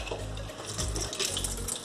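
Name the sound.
water being poured off soaked mung beans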